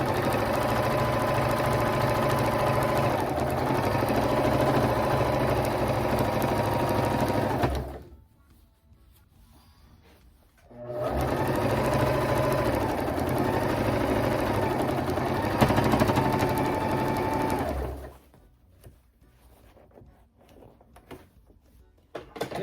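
A sewing machine stitching king-size pillow shams runs in two long, steady bursts of close, humming needle chatter, each lasting about eight seconds with a short quiet pause between them and a brief stop at the end.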